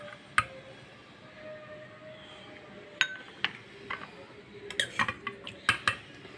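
Lentil fritters being served onto a plate with metal utensils: a few scattered clinks, then a quicker run of sharp taps and scrapes against the dish, close and clear over a quiet room.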